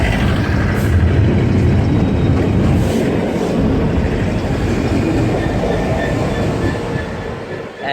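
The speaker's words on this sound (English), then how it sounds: "Greater Anglia service from Ipswich to London Liverpool Street." A Greater Anglia passenger train running from Ipswich to London Liverpool Street rushes through Colchester station with a loud, continuous roar and rumble of wheels on rail, and the sound holds steady before easing toward the end.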